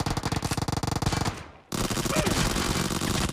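Rapid automatic Uzi gunfire from a PUBG gunfight, loud and close, a fast steady burst that cuts out briefly and then resumes as a dense continuous roar.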